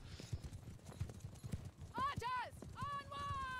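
Cavalry horses charge in the Mount and Blade 2 Bannerlord video game, with soft thudding hoofbeats under steady talk and a couple of neighs near the end.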